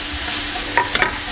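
Chopped onions and meat for beef fajitas tipped into a hot frying pan, giving a brief clattering rush and sizzle over a steady background hiss, close and moderately loud.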